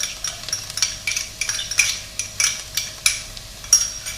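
A spoon stirring garlic as it sautés in a pot over medium heat for broccoli cheddar soup, regular scraping strokes against the pot over a faint sizzle, close and clear with no talk.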